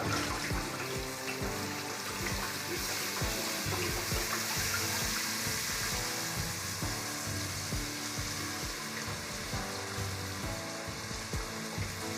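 Tamarind juice is poured into a pan of Nellore-style fish curry with tomatoes, giving a steady, close hiss of sizzling and bubbling liquid with faint stirring knocks throughout.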